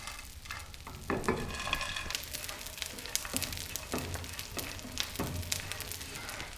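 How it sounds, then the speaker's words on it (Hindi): Chironji seeds roast in a pan for desi laddu, a soft crackling sizzle broken by repeated scraping and stirring strokes, moderately quiet with no voices. "इसी तरीके से हम बाकी की चीड़ भी भून लेंगे।"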